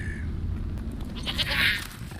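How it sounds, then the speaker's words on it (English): A goat bleats once, a short wavering cry rising over a steady background hum, close and fairly loud with no talk. "Goat."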